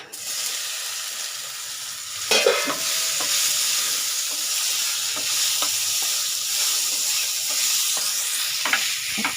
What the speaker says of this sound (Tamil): ஒரு ரெண்டு சிட்டிக்கை பெருங்காயம் இது நல்லா பொரிஞ்சிடும் நெல்லிக்காவை சேர்த்துக்கலாங்க